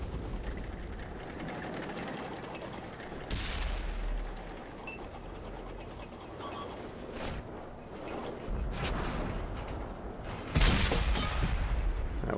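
An M6A2E1 tank's main gun fires at a rock in a video game, with booming shots standing out over a continuous rumbling, clattering battle soundscape; a heavy blast lands near the end.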